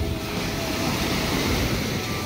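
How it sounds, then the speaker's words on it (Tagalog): Strong surf rolls in at a beach in Carles, Iloilo, a continuous loud wash of waves mixed with wind buffeting the microphone. "Malakas ang alon."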